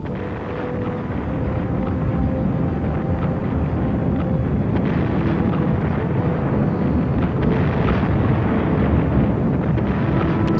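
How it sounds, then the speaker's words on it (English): An explosion in the video game Evil Genius gives a sustained, loud, broadband roar that rumbles on steadily for several seconds, like a blast fading into a windy wash, with no talk over it. "one awesome explosion now, isn't it?"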